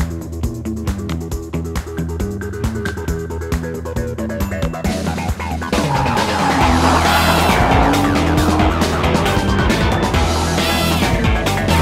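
Lamborghini Super Trofeo race car lapping Virginia International Raceway, a loud sustained engine scream with rising gear pulls and tire squeal as it corners, growing more intense partway through, with no talking.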